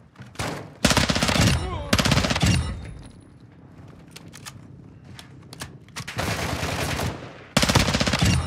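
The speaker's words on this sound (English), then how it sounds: "Ultra One, activity is gunfire. Stay alert." Loud, close bursts of automatic machine gun fire erupt in the Call of Duty DMZ video game, several rapid volleys separated by quieter gaps with faint game noise between.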